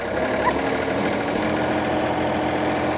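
A Marini MR C20P microdrilling rig engine runs at a steady idle, a continuous low rumble with even vibration and no talk over it.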